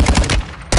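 Rapid gunfire in a military shooter game: a close, loud burst of cracking shots, a short lull, then another sharp volley.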